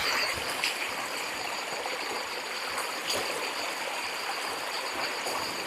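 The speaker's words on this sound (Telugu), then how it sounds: "ఇక్కడైతే చూడండి ఇలా గడ్డలో అయితే వాటర్ పారుతుంది" A small stream of water trickling along a ditch on a hillside during a trek, a steady close, continuous flow with a faint gurgle and no voices.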